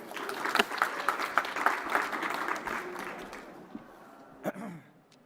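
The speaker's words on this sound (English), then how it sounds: "Please clap for him." An audience at a COP26 session on short-lived climate pollutants applauds an arriving speaker, a dense burst of clapping that thins out and fades, leaving a few scattered claps near the end.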